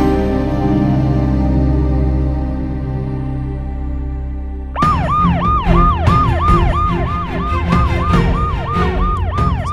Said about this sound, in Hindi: सायरन बंद कर दो, वरना वो लोग भाग जाएंगे।